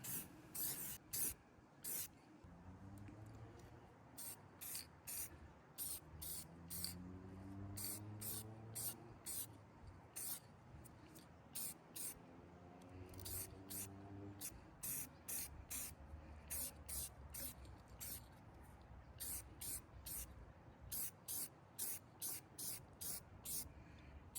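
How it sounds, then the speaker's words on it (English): Repeated short bursts of spray paint hissing from a can onto a rusty old lantern, in quick clusters with brief pauses, while a siren wails faintly in the distance. "And give it a couple more coats of spray paint."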